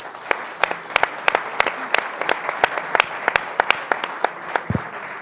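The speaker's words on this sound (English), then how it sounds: "So if you could all join me in a round of applause" An audience at a talk on the Venezuelan crisis applauds steadily, a moderate room of scattered claps close by for several seconds.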